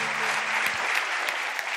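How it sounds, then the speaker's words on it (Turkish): Audience applause in a comedy talk show studio: a dense, steady clatter of many hands clapping, fairly loud and even for under two seconds. "Daha konferansa bağlanmadan alkışlıyor."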